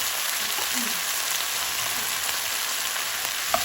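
Mushrooms hitting a hot pan of eggplant stir fry set off a steady, close sizzle that holds even throughout, with a faint clink near the end.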